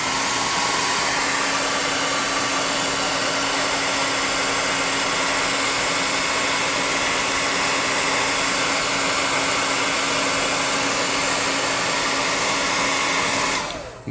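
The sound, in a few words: hair dryer drying painted tabletop miniature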